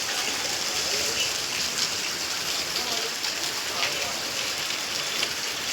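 Steady rain hisses across the whole stretch, a dense, even wash of falling drops with no pauses, fairly close and moderately loud.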